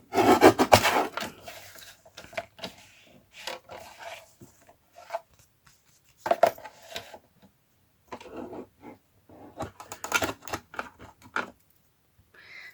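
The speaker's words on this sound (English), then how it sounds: "So I cut it a little bit smaller with my other cutting device." Paper is cut with a cutting device on a desk during card making with vintage-style and Tim Holtz craft supplies, giving several bursts of scraping and rasping with short pauses, close and fairly loud, with no speech.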